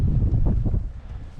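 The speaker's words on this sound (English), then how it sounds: "The wind's picking up here," Wind gusts across an outdoor concrete job site, buffeting the microphone with a loud, low rumble that swells and eases over a second or so, with no voices.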